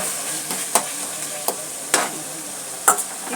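Tomato and onion sauté in a pan under a quiet sizzle, broken by several sharp scrapes and taps of a ladle stirring at irregular intervals.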